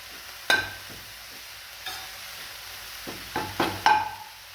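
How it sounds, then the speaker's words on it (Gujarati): A spoon stirs mogri pods in a pan with coriander-cumin powder, red chili powder, salt and turmeric, giving a few scraping strokes over a soft, steady sizzle. "ધાણા જીરું પાવડર ઉમેરીશું ત્યારબાદ એને મિક્સ કરી દઈશું"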